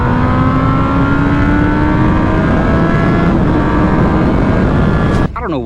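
A 1998 motorcycle accelerating hard, its engine note climbing steadily and loudly through the gears with dense wind roar, then a sharp drop and rising whine near the end as it shifts.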